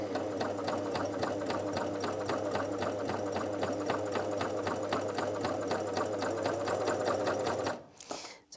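A Janome CoverPro 3000 coverstitch machine runs at steady high speed, a continuous rapid mechanical chatter over a low motor hum, stopping abruptly near the end.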